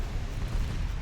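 Heavy explosions as the Royal Navy warship Belfast is sunk in a naval strategy game, a continuous loud low-frequency rumble of blasts with no clear gaps.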